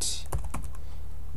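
Brief run of keystrokes on a computer keyboard as a terminal command is typed: a few quick, light clicks close by over steady background hiss.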